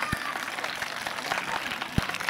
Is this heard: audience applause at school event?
yes